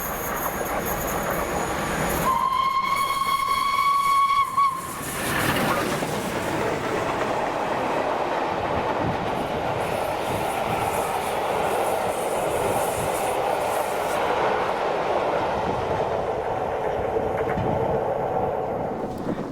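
Steam locomotive 62555 Lord of the Isles working with 45407 Lancashire Fusilier in Scotland sounds one clear whistle blast of about two seconds, followed by the steady rumble and rattle of the train running on.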